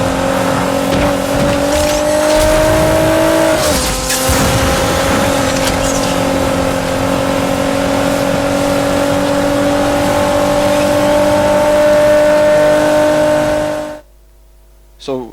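Video-game race car engine with nitro boost, a loud close engine whine holding steady tones with a brief pitch dip and tire-squeal burst midway, then cutting off near the end.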